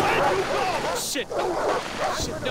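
Dogs barking in the video game Far Cry 3, a few yelps and barks rising over a person talking.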